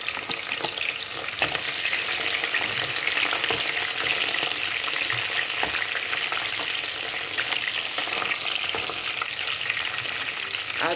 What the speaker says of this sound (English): My oil is already on the fire, the groundnut oil I'm using. Then you can add your onions.